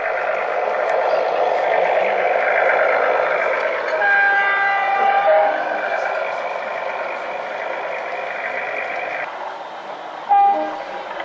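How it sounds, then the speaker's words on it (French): A Billard diesel railcar on a model railway at Ardèche Miniatures pulls away with a steady mechanical rumble and hum, sustained horn-like tones sounding over it, then the sound thins before a short clunk near the end. "L'autorail Billard prend le départ pour une destination inconnue."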